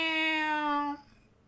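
A single drawn-out cat meow, clear and close, held for about a second before trailing off into quiet.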